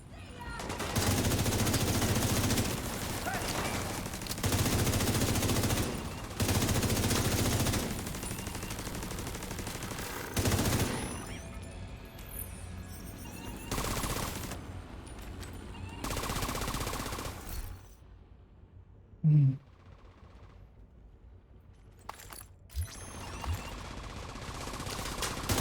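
Machine gun fire from a defensive turret in a wave-based video game, sustained rattling bursts in several loud stretches separated by short pauses, fading toward sparser clatter near the end.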